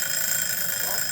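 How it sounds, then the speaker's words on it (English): A kitchen-style timer alarm rings continuously, a bright, steady electronic tone holding evenly throughout the short stretch without pause. "there's my timer"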